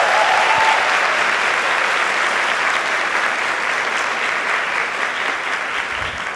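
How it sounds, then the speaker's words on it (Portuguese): Church congregation applauding steadily in a large hall, a dense continuous wash of clapping that fades slightly toward the end. "Dá um aplauso para Jesus. Vai dar um aplauso."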